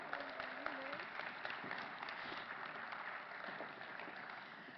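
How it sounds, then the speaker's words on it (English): An audience at a Democratic Party forum in Baltimore claps steadily as candidates are called to the stage; the dense applause stays level throughout while a faint voice briefly carries over it. "Let's give them all a big round of applause."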